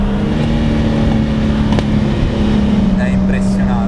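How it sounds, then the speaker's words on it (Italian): A black Lamborghini Miura SV being driven, its engine a steady, loud, continuous drone heard from inside the car with no clear revving change, and a brief higher whine near the end. "Io sto davvero guidando una Miura nera."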